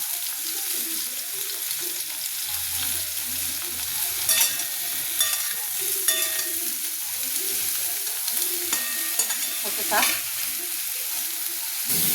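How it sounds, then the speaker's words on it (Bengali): Ridge gourd fries in a large wok over a high gas flame, giving a continuous bright sizzle with occasional scraping stirs and soft clinks. A voice speaks briefly near the end. "গ্যাসটা জোরে দিয়ে ভাজবো।"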